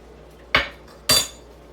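A metal spoon clinks twice against a pot of homemade spaghetti sauce, two sharp, close knocks about half a second apart in an otherwise quiet kitchen.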